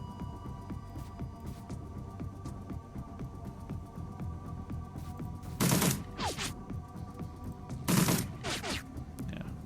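Two sharp gunshots crack about two seconds apart in Shadowrun: Dragonfall, standing out over a low, throbbing mechanical hum that runs throughout.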